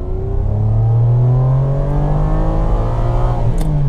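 Ferrari 550 Maranello V12 revving hard and close, its pitch climbing steadily through the rev range as a loud, continuous engine note with no talking over it.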